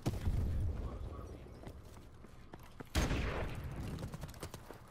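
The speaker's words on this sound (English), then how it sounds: "I'm getting shot at over here." Gunfire crackles in Call of Duty Modern Warfare Remastered during a Search and Destroy match on Backlot: faint, distant bursts of shots with a louder burst near the middle, under a low background rumble.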